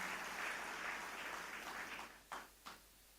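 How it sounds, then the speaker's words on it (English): An audience applauds at a felicitation ceremony honouring ministers and MLAs, a steady patter of clapping that fades out, followed by a couple of isolated late claps. "So I request you to give a grand applause for their"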